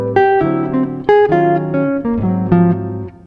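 Clean jazz guitar playing a quick sequenced single-note line from a recorded solo, with distinct plucked notes in a steady rhythm and no talking.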